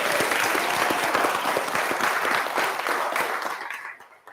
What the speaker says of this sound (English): give them a round of applause for sitting in